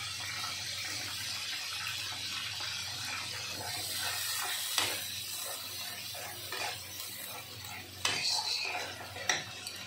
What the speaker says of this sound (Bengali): এই টমেটো দিয়ে দেওয়ার পরে এখন দেবো জিরে, গোলমরিচ আর গরম মশলা বাটাটা